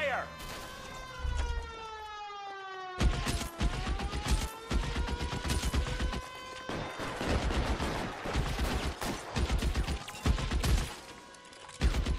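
Gunfire erupts in the LA Noire video game: a siren wails alone at first, then dense bursts of shots crack repeatedly over the continuing siren, loud and close throughout.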